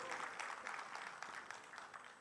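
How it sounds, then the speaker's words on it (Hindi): Audience applause welcoming a panelist on stage at a literary festival session on media and journalism, a continuous dense patter of many hands, heard faint and distant. "तालियों के साथ स्वागत करें अजीत भारती जी का"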